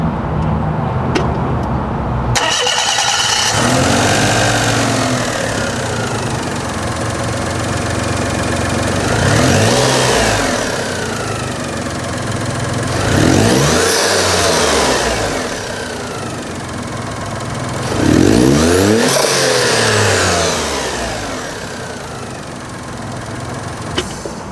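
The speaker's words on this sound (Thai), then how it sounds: "มาฟังเสียงเครื่องยนต์กัน" Factory-turbocharged Daihatsu Mira L500S engine running near the microphone, idling steadily and then revving hard several times in rising and falling sweeps, loud and with no voices.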